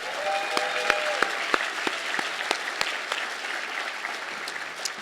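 A room full of people claps for Koolbridge Energy at the Coastal Entrepreneur of the Year awards in Wilmington, North Carolina: continuous crowd applause with several sharp, close individual claps standing out early on.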